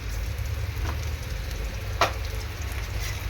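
Ginger and garlic frying in a pan while cooking snakehead fish, a steady low sizzle with a couple of brief stirring clinks, close and fairly quiet.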